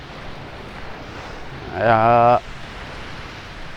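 Strong northeast monsoon wind blows by the sea with waves, a steady broadband rush throughout; a short spoken word briefly rises above it midway.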